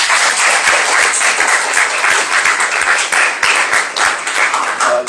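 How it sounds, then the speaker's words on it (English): A hall audience claps steadily for debate participants at a secondary schools debating competition, a full, close round of applause throughout with no talk. "I think we should give the participants a round of applause"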